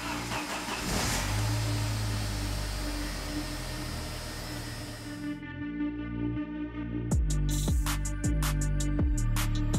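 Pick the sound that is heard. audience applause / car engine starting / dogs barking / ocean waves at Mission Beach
car engine starting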